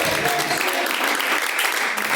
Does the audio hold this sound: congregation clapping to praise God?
yes